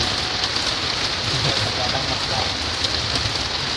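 Steady rain falls outdoors while people shelter under a roof, a dense, even hiss of drops spread across the whole clip with no clear break.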